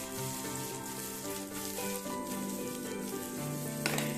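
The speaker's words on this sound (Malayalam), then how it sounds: "നന്നായി രണ്ട് ഭാഗവും നന്നായി ഫ്രൈ ആയി വരുന്നത് വരെ നമുക്കൊന്ന് കുക്ക് ചെയ്തെടുക്കാം" Butter chicken pieces fry in a pan with a soft, continuous sizzle and crackle, heard fairly quietly beneath a gentle melodic background tune, with no talking.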